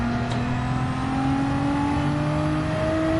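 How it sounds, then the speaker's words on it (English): A race car engine in Gran Turismo 7 whines steadily as its revs climb smoothly and continuously, loud and close with no other sounds. "you can hear the car, like, rev go up"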